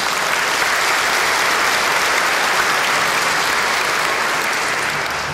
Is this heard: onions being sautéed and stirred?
no